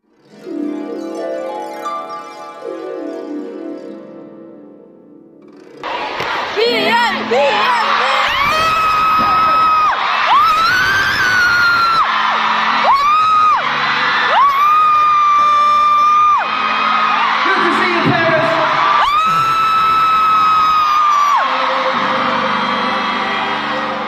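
Loud fan screams and a cheering crowd at a K-pop festival concert, with sustained high-pitched shrieks and whoops rising sharply after a quieter stretch and continuing densely near the listener.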